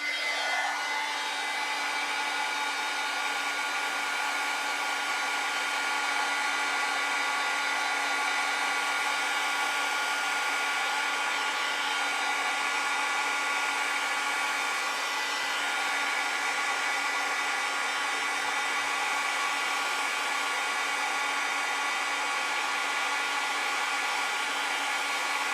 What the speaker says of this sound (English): Yep, I'll let it dry. Use my heat gun.